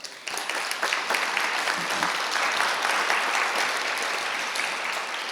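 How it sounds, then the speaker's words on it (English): A crowd at a community reading program event applauds steadily, a thick, even patter of many hands clapping at moderate volume from start to finish. "I think they all deserve a round of applause"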